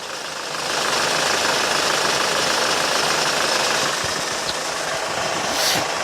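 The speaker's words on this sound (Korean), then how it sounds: "이제 엔진을 한번 열었는데 바로 엔진 소리 한번 들려드릴게요" A used Hyundai Grand Starex van engine idles with a steady, loud mechanical rumble and faint rattling knock, continuous and close throughout.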